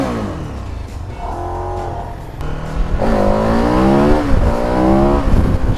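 A KTM 1290 Super Adventure motorcycle engine revs hard and close, its pitch sweeping up and down through repeated rising throttle blips that grow louder toward the end.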